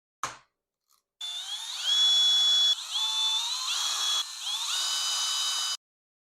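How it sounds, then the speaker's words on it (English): Power tool loosening the hand guard bolts on a Yamaha Super Tenere motorcycle, a close, loud whirring drill in three bursts with rising pitch, after a brief knock at the start. "I'm going to remove this hand guard, and for that I'm just going to remove this bolt and these two bolts up here"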